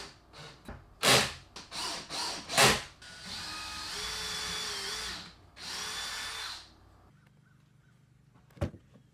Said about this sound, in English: then drilled in the screws